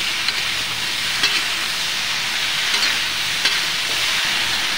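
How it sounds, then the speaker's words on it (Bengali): A wet dish with turmeric frying and being stirred, a loud, dense, steady sizzle and hiss close by with faint periodic stirring knocks, no talking. "দেওয়ার পরে কায়দা করে মিশিয়ে দেবো, ঘুটে দেবো এটাকে কিছু টাইম আমি ভাজি করে নেব।"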